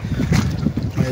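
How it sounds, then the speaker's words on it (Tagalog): Strong wind buffets the microphone while fishing from a riprap shoreline by the water during a typhoon, a steady low rumble with gusty swells throughout and no speech. "mahangin lang kasi"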